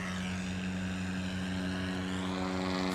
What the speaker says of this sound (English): That is a 172 tail dragger conversion taking the line.